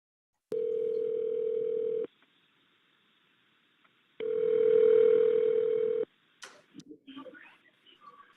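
Telephone tone on a recorded 911 call: two long steady electronic beeps, each about one and a half seconds, separated by silence, followed by brief clicks and line noise.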